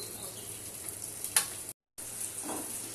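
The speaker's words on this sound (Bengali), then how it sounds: "এখন এই সাইডটা ঢেকে কিছুক্ষণের জন্য ভাজি করতে হবে।" Eggplant slices fry in oil in a pan, giving a steady soft sizzle up close with one sharp clink partway through and a brief dropout in the sound, and no voices.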